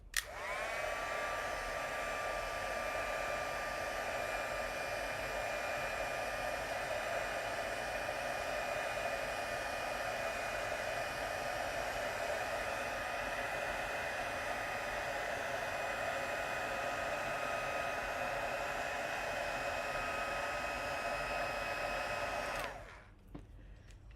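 Heat tool blowing steadily for about twenty seconds, drying cardstock and melting embossing powder, a loud even whoosh with a faint whine that cuts off near the end.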